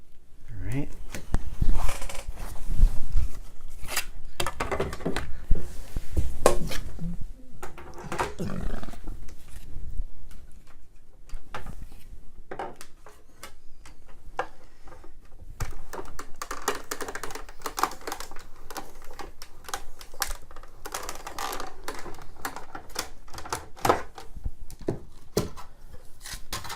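A card is cranked through an embossing machine inside a gears embossing folder, giving a close, continuous rough grinding and crunching texture with uneven surges throughout.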